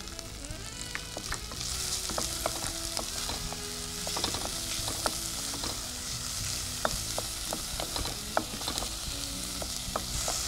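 Chopped onions sizzle steadily in a hot pan while a utensil stirs and scrapes, with occasional sharp clicks.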